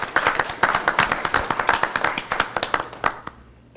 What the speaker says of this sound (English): let's receive him with a round of applause